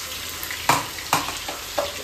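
Ground masala paste sizzling and frying in a pan for a home-cooked chicken dish, a steady hiss with a few sharp spatters and stirring scrapes close by, no voices.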